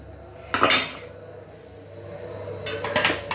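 Metal clatters twice as a lid is set onto a pot of simmering puli kuzhambu, with a quiet kitchen hum between the two clanks.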